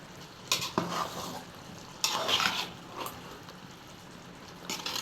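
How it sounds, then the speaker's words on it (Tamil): Cooked chicken biryani rice being stirred gently in a pot, with a few soft scraping strokes and clinks of a spoon against the metal, close and fairly quiet. "லைட்டாக கிண்டுவோம் நம்ம ரொம்ப கிண்டக்கூடாது"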